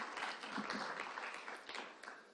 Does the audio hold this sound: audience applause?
yes